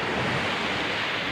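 Steady broadband rush of sea waves washing on a shore, close and continuous for a brief moment, with a faint wind-like hiss and no voices.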